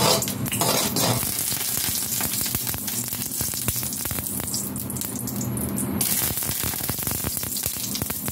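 Squid frying in olive oil in a hot pan, a steady loud sizzle with frequent scraping and stirring clicks of a utensil against the pan throughout.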